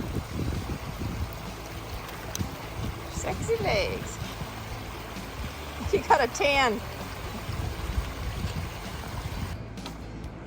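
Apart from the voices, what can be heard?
Whitewater River stream flowing at a river crossing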